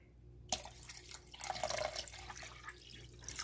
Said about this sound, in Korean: 통에다가 일단 물을 반 정도 넣어주도록 하겠습니다